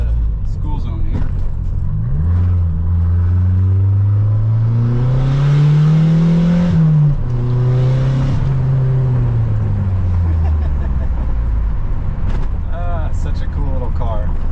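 A 1989 Dodge Lancer Shelby drives along, its engine note climbing as it accelerates, then settling and tapering off, steady road noise throughout and someone talking over the drive.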